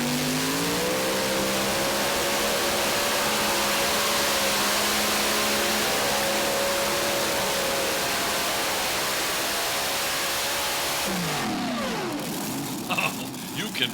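An unlimited class pulling vehicle roars continuously at close range through a competition pass at a modified and unlimited tractor pull, its engine pitch holding high and then dropping off as the run ends, with an announcer's voice faintly underneath.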